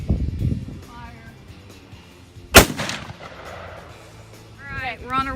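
A single loud, sharp shot from a high-powered military sniper rifle, followed by a rolling echo, with voices talking before and after.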